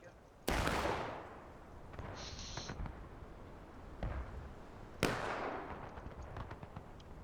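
Gunfire in a large multiplayer Civil War battle game, two sharp loud shots with long echoing decays plus a softer report between them, over quiet background noise.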